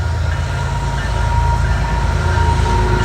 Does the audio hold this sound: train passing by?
yes